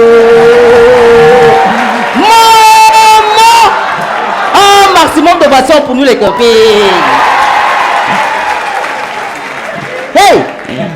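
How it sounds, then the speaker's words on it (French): Audience at a lively evening comedy show in French claps and cheers under a loud, excited voice addressing the crowd, with bursts of whooping and shouting rising and falling close by. "Applaudissons pour nous-mêmes."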